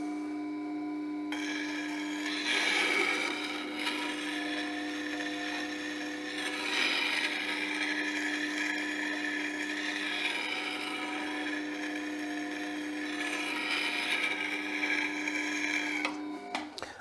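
A spinning grinding wheel hums steadily while a deep bowl gouge is pressed against it, producing several long, gritty rasping passes that swell and fade, with no speech.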